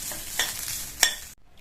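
Grated coconut, two tablespoons, sautéed lightly in a pan for a Tamil home lunch dish, giving a soft steady sizzle with a few sharp spoon scrapes against the pan before it cuts to silence.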